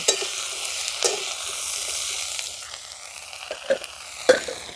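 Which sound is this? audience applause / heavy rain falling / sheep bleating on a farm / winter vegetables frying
winter vegetables frying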